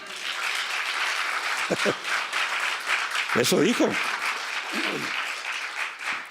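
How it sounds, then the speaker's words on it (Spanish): Congregation applauding at a church service, a steady spread of clapping throughout, with a preacher's voice breaking in over it a few times. "Den un aplauso al Señor si usted está entendiendo."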